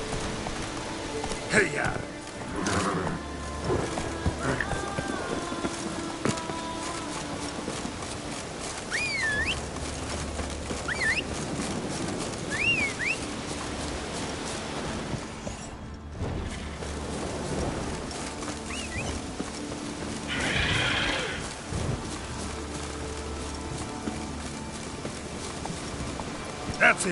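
Hoofbeats of the horse Roach galloping in the Witcher 3 video game, a steady clip-clop running through most of the scene under birdsong, ambient outdoor sound and occasional shouts and talk.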